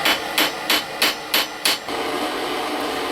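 Six sharp, evenly spaced hammer blows on the shank end of an old steel drill bit, flattening its tip, each strike ringing briefly before a steady workshop hiss.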